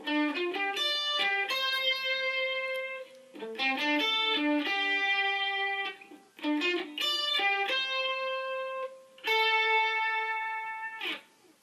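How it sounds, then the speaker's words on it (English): A distorted electric guitar plays the lead line of a song, sustained single notes and quick runs, phrases separated by brief pauses, alone without speech. "Now the lead guitar sound like this."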